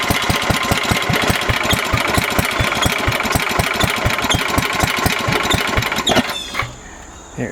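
A Suburban engine running with a rapid, steady knocking rhythm, close and loud, that cuts off abruptly near the end, leaving a quieter background.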